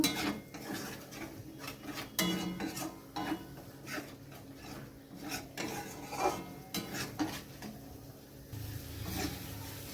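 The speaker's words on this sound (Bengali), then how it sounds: "আবার আমি ভালো করে নেড়ে নেব" Paste of cashew, poppy seed, melon seed and sesame is stirred in a pan with a utensil, giving irregular scraping and rubbing strokes with occasional clinks against the metal, steady and close.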